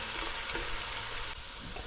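Chilli and chicken sizzle steadily in hot oil, a dense close crackle with a few stirring scrapes, no voices over it.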